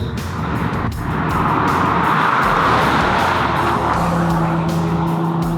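A race car roars past on a closed Texas highway, a loud, sustained engine rush that swells and holds close by, with a faint squeal of tyres near the end.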